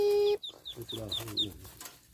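Ducklings give a quick run of high, thin peeps, five or six short chirps in a row following a brief steady tone, close and fairly faint.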